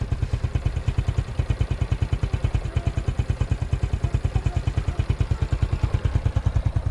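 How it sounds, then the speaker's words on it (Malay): A motorcycle engine thumps steadily at a fast, even rhythm, close by, as if riding along, with no talk. "Hari ni kita gerak dengan dua biji motor."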